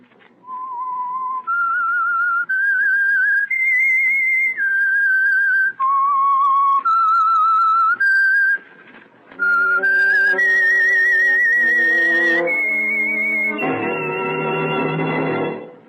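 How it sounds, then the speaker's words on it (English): A clear whistled melody, the theme of the old radio mystery drama The Whistler: a series of sustained pitched notes rising and falling in a slow eerie tune, with a brief pause midway before it resumes. "That whistle is your signal"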